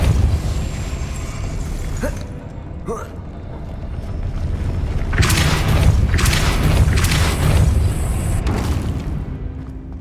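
In the Hogwarts Legacy video game, a Depulso spell sets a mechanism spinning to raise a platform, with a booming, rumbling magical whoosh and loud grinding surges over a music bed. A character's voice is heard briefly.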